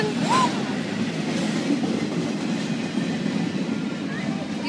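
A train rolls into a station with a steady, loud mechanical rumble throughout, a brief high squeal near the start, and children and adults talking over it.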